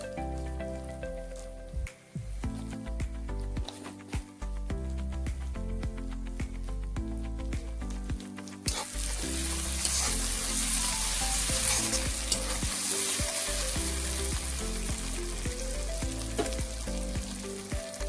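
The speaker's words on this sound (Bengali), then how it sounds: "মশলাটাকে ভালো করে কষে নেবো।" A spice masala for Bengali duck curry fries in a pan with a steady crackling sizzle and occasional stirring scrapes. The frying swells noticeably louder and hissier midway, with no talking.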